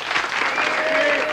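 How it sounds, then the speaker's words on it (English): Studio audience applause on a dance TV show for a wedding couple, a dense steady wash of clapping with a faint tonal line running through it. "How about a round of applause for our wedding couple?"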